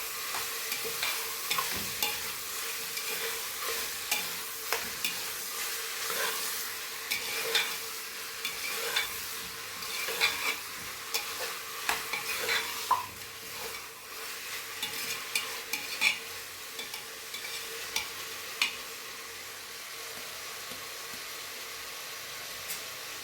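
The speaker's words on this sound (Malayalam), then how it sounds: "ഇനി ഇതെല്ലാം കൂടി നല്ലതുപോലെ ഒന്ന് മിക്സ് ചെയ്ത് ഒന്ന് രണ്ട് മിനിറ്റ് ഒന്ന് അടച്ച് വെച്ച് കൊടുക്കാം" Bone-in beef sizzling and being stirred in a pot for beef curry, a steady hiss of frying with frequent scraping and clinking spoon strokes, close and continuous with no talk.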